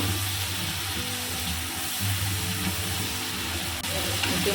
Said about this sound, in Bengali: মশলাটা ভাজা ভাজা করবো